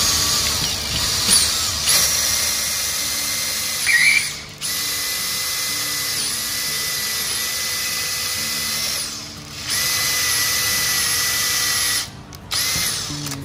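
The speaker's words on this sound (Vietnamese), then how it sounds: "mình sẽ sử dụng cái mũi khoan 9 ly để mình khoan xuyên qua bên kia" A power drill fitted with a 9 mm bit bores through a wooden cabinet panel, a loud continuous whine lasting several seconds with a few brief stops and restarts, no talking.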